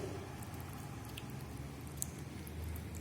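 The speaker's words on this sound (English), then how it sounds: "See, so nicely the water comes out from the beaker." Water sprays steadily from a small beaker mini sprinkler during a plant-watering demonstration, a continuous soft hissing patter with faint wet squishy crackles, with no speech.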